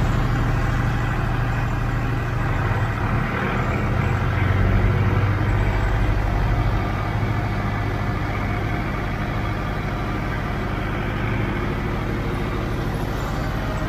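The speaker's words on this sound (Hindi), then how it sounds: "देखो, कुबोटा का भी 1500 RPM कर दिया है" A Kubota 4501 tractor engine held at 1500 RPM during a vibration test, a loud, steady diesel drone with a low rumbling throb, close by and unbroken throughout, no voices.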